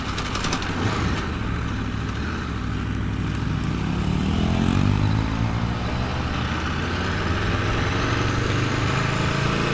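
An Italian sports touring motorcycle's engine lugs along at low RPM, a continuous close-up drone with a smooth, slowly shifting pitch and steady loudness, no voices present.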